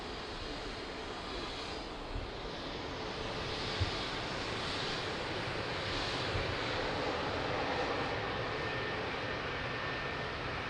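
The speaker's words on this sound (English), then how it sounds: "Nice, amazing landing." An airplane landing at Lisbon Airport gives a broad, steady engine roar that swells slightly and holds throughout, heard at a moderate distance.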